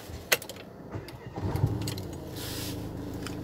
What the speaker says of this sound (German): Ich mache jetzt mal den Motor an.